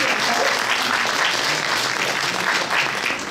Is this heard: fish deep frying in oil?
no